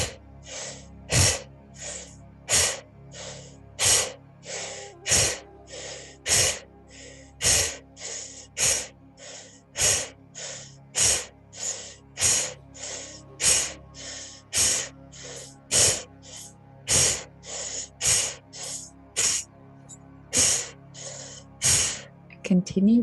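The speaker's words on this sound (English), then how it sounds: "we'll be exhaling powerfully from the belly" Powerful exhalations pushed from the belly during a breathing exercise, about thirty sharp breaths in a steady, quickening rhythm, loud and close, with no talk between them.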